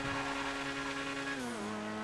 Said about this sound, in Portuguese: O som do motor tá muito bonito desse carro